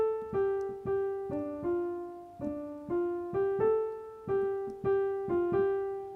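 Piano playing the right-hand melody of a song, a steady sequence of about fourteen single struck notes in an even rhythm, each decaying before the next, quiet and alone.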